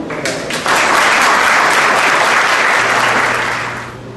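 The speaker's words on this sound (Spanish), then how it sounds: "bienvenido Samuel, lo recibimos con un aplauso." An audience applauds to welcome a lecturer at a history conference in Mexico, clapping swelling after a brief voice and staying dense and loud before easing off, with faint murmuring beneath.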